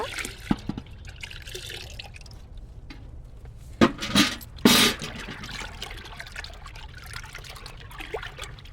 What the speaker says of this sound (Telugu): ఈ డ్రమ్ములు వర్షం నిండుగా ఉండయి నేను దీంట్లో చెంబులో పోసుకుంటున్నాను